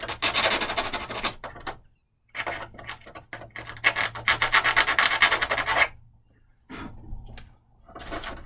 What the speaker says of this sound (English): Let me just sand this former a little bit.